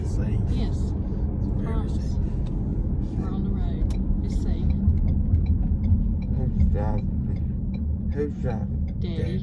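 Steady low road rumble of a car heard from inside the cabin, continuous for the whole stretch, with a child's and an adult's voices talking over it.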